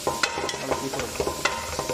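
Spices and Arabic masala with turmeric powder stirred in a frying pan while making fish majboos, a soft steady sizzle broken by repeated scraping strokes of the stirring spoon, close and fairly quiet with no talking.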